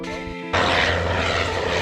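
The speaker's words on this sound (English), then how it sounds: "As you can see from the plane landing" A landing propeller aircraft's engine drones loudly and steadily in windy conditions, jumping to a broader, rushing roar partway through, close by.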